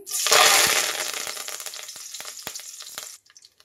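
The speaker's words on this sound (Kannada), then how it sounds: "ಎಣ್ಣೆ ಬಿಸಿಯಾಗಿದೆ. ಒಂದು ಗರಿ ಕರಿಬೇವು ಹಾಕ್ತಾ ಇದ್ದೀನಿ." Curry leaves hit hot oil in a wide pan with a loud burst of sizzling that gradually settles into a steady crackling fry, with sharp pops scattered through it, before cutting off abruptly near the end.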